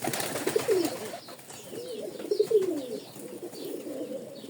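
Domestic pigeons coo nearby in repeated soft, throaty phrases, two clear bursts with quieter bird sounds in between.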